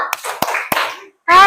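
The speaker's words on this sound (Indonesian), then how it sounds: "Beri tepuk wow." Schoolchildren in an Indonesian classroom do a 'tepuk wow' clapping cheer: three sharp, evenly spaced claps ring out while their voices chant along, then a loud sung 'wow' closes the cheer.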